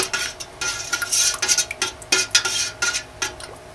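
Lavender mint soap batter is stirred in a container, producing rhythmic close scraping and clinking strokes of a utensil against the sides, repeated quickly and without talk.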